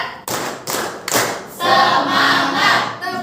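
A group claps in a rhythm game, counting out three quick, sharp claps close by in an uneven beat, followed by a sustained tonal sound.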